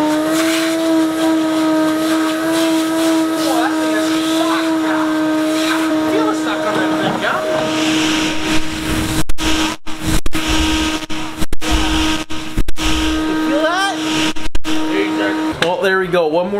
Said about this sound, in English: we got our vacuum filter on our free rigid from Brian.